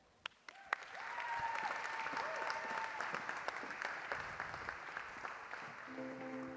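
An audience at a New Zealand government technology demo day bursts into sustained, even applause welcoming a speaker to the stage, steady clapping from a moderately sized crowd with a few louder claps at the start.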